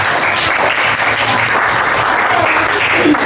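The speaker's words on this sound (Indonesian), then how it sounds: "kita kasih tepuk tangan" Classroom applause for a student group after a presentation, a steady, dense clatter of many hands clapping close by for the whole stretch, with a faint voice or two underneath.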